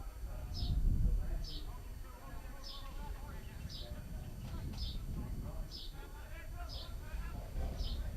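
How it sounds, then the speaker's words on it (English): Short, high bird chirps repeat at a steady pace, about one per second, faint over a low outdoor rumble and distant murmuring at a summer afternoon football match. "you can still hear the birds chirping"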